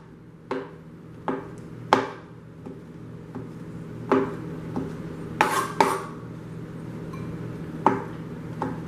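Mushrooms chopped on a cutting board for a vegan Philly cheesesteak, with about ten crisp, distinct knife strikes at an irregular pace, close and clear with no talking.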